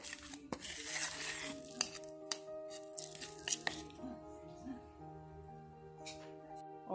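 Spoon scraping and clinking against a bowl while stirring a thick chocolate dry-nut energy bar mixture, irregular close taps and scrapes under someone talking.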